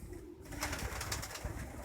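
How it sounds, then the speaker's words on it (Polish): Soft, low coos from quarantined pigeons murmur close by, a few brief calls blending into a faint background hum. "tutaj jak widzimy gołąbki są na kwarantannie"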